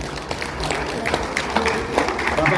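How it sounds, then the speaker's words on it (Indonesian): An audience claps at an IKAPI halal bihalal gathering in Jakarta, a dense and fairly loud wash of hand claps that holds steady across the whole stretch. "Tepuk tangan dulu buat IKAPI."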